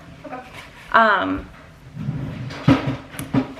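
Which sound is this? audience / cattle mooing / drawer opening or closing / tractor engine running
drawer opening or closing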